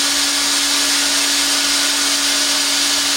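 Hot air plastic welder running with a welding rod, a steady loud whooshing hiss with a constant high whine that does not vary throughout.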